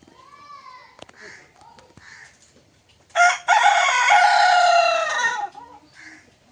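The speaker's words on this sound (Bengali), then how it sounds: "মোরগ অনেকগুলো মোরগ হয়ে গেছে, তো ডাকছে, বারবারই ডাকছে।" Several roosters in a backyard flock take turns crowing; faint distant calls and clucks come first, then one loud, close, drawn-out cock-a-doodle-doo, with quiet background voices.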